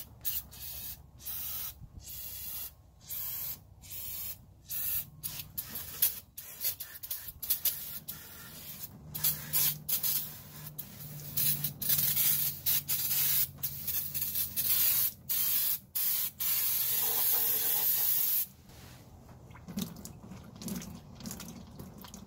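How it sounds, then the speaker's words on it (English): Cleaner sprayed into the small holes of an engine's gasket surface, heard as a series of short, sharp aerosol hisses in quick bursts, close and loud, growing into longer sustained sprays toward the end. "I want to go ahead and spray inside these holes."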